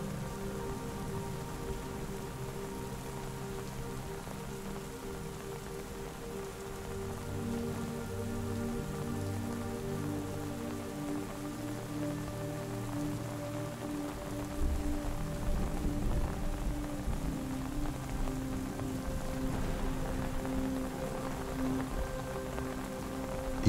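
Steady rain patters on a tent awning, with low thunder rumbling far off in the background.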